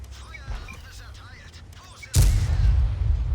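Artillery fire in World of Tanks: a sudden loud boom partway through, followed by a heavy rumbling roar, after quieter game sounds and a soft thump earlier.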